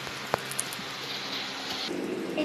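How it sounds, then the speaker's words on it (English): Water coming to a boil in an electric kettle, a steady soft rushing hiss with faint bubbling that swells slightly toward the end, heard close and alone. "It's boiling."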